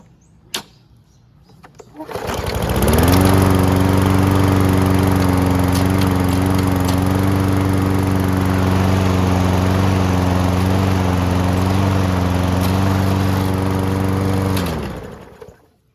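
A 21-inch Toro Recycler rear-wheel-drive walk-behind lawn mower, two years old, starts after a faint click and settles into a steady, loud, close engine drone with a strong low hum for about twelve seconds before cutting off.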